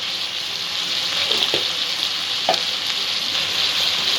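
Spiny gourd (kankrol) sautéed with turmeric, coriander, cumin and chilli powders in a pan for a kankrol curry: a steady broadband sizzle with a couple of sharp spoon scrapes against the pan, no voices.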